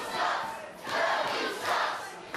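Wrestling crowd in surging waves of roaring and shouting during a rear wear-down hold by Martin Kirby on Joe Hendry, three loud swells rising and easing with no voices standing out.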